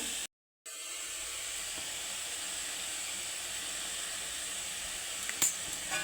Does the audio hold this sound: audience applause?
no